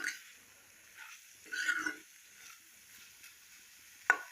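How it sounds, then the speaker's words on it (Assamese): A soft, low sizzle of taro stolons frying in a pan over low heat, with a few brief scraping stirs and a sharp clink near the end. "এই কচুলতিখিনি অলপ সময় এনেদৰে আমি জুইটো কমকৈ দি ভাজি থাকিব লাগিব"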